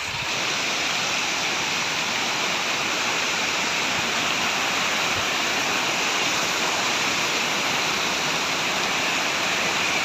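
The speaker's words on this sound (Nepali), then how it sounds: "पहिरो झर्दैछ। होसियारी है होसियारी।" Stream water rushes down a hillside beside an active landslide, a loud, continuous, broadband roar with no pauses and no voices.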